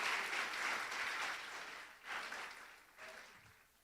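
A church congregation applauds in a sustained burst of clapping that fades, then swells again in two shorter waves, heard at a moderate distance in a reverberant hall.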